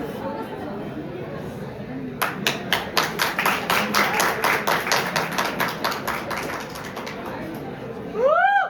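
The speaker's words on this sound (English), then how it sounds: "So please give it up for Afreen Sheikh" An audience at a college pep talk event breaks into rhythmic, fairly close clapping after a short lull with murmuring voices, the claps strong and regular, with a brief whistle-like sound near the end.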